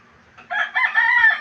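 A rooster crows once, close and clear, a brief strained call rising after a short quiet start.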